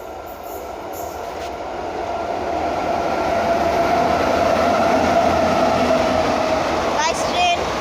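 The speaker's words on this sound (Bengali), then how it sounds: "এটা মাল ট্রেন।" A freight train at Badgara station rolls past close by in a steady, loud rumble of wagons that builds over several seconds, with a brief wheel squeal near the end.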